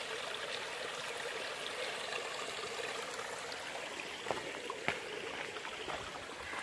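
A small mountain stream trickles and splashes steadily along a forest trail on Mount Takao, a soft continuous wash of water with a couple of brief knocks near the end and no voices.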